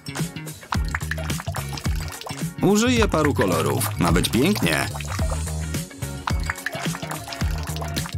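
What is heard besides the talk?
nail polish poured into a bowl of water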